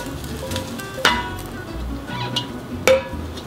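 Eggs and tomatoes stir frying in a wok give a low steady sizzle, broken by two sharp metallic clanks of a spatula against the pan and softer scraping between them.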